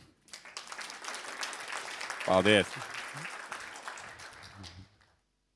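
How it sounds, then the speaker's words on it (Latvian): Audience applause fills a hall at a 2015 investment forum on real estate, steady clapping lasting about five seconds, with a speaker briefly thanking the crowd near the end. "ar nedaudz atraktīvākiem aplausiem"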